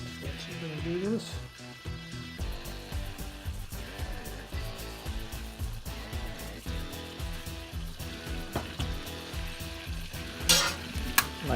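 Garlic butter with seasoning sizzling in a pan as it is stirred, a continuous frying hiss with utensil scrapes, under someone talking throughout.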